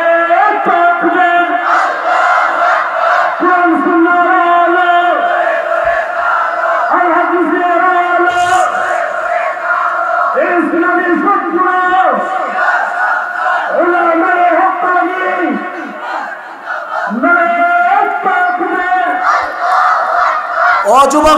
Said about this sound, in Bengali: তুলে হাত উঁচা করে তোলেন তকবীর দেন নারে